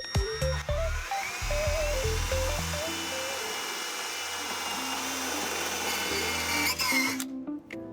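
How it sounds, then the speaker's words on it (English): A high-pitched electric drill whines steadily, its motor revving and straining as it bores a pilot hole, loud and close, with a few clunks near the start and end. "Grab that drill."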